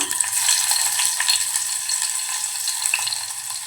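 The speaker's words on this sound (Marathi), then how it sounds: "आपलं तेल गरम झालं आहे त्यामध्ये आपण ठेसलेला लसूण घालूया" Crushed garlic sizzles in hot oil, a steady, close crackle with small spits and pops throughout and a faint low rumble underneath.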